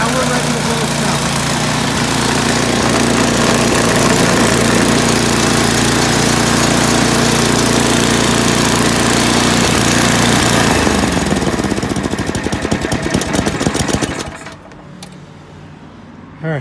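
A Tecumseh 8-10 HP snow blower engine runs loud and close with a rough, steady chugging roar, then cuts off and fades to quiet near the end.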